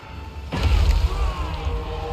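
A cannonball strikes a tree on a Total War Warhammer 3 battlefield. One sudden booming impact bursts out after a brief lull and then trails off into a lingering low rumble.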